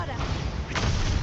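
A Bombarda explosion spell goes off in Hogwarts Legacy combat: a brief, punchy blast bursts from the middle of a dense, continuous wash of game noise.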